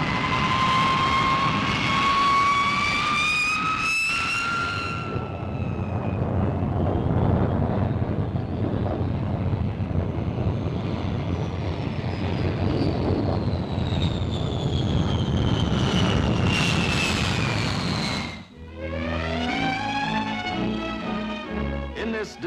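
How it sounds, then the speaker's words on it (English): A four-jet Vickers Valiant bomber flies past with a loud, continuous jet roar and shifting whine that swells and fades, followed by a sharp break and a change in the sound near the end. "The RAF's tremendously powerful weapon to come is the Valiant, the new four-jet bomber, a magnificent example of British engineering."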